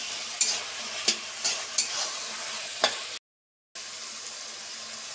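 Manchurian mixture with cumin powder simmers and is stirred in a home kitchen pan, giving a steady sizzling bubble broken by several sharp scrapes of the spoon, close and moderately loud, then a brief cut to silence before the sizzle resumes.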